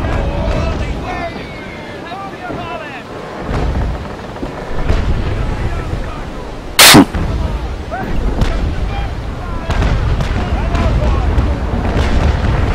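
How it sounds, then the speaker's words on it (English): Six-pounder cannons boom from sailing ships in a naval game, heavy thuds scattered across a windy, rumbling background with talk running over it. "Someone is shooting my sails"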